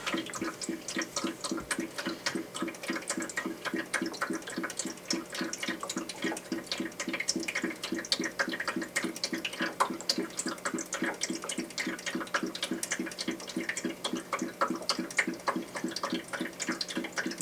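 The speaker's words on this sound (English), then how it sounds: "The water is circulating through the" Steady trickling and splashing of water from a Drinkwell Big-Dog pet fountain, a continuous close babble with a fine rhythmic patter throughout.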